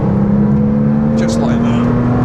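A Porsche 987.1 Cayman S engine drones steadily from inside the cabin while driving, a loud sustained hum with a slowly rising tone suggesting building revs, and a voice talks over it.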